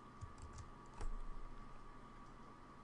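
Someone types on a computer keyboard while writing Android SoundPool code in a programming tutorial. Faint, close keystrokes tap at an irregular pace over a low steady hum, with no talking.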